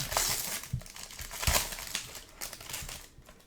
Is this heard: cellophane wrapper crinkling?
yes